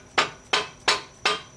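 Four sharp hammer strikes land at a steady, even pace, each a crisp metallic knock that rings briefly before the next blow.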